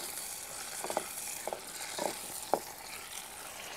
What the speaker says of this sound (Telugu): ఆ నూనెలో మిరపకాయలు వేసుకొని ఎంపుకోవాలి